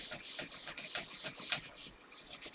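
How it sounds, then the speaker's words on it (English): Broken crayon piece rubbing back and forth across paper laid over leaves, a steady dry scratchy scraping in quick strokes, close and fairly quiet with no talk. "I'm rubbing all the way until I can see all of the leaves that I put underneath"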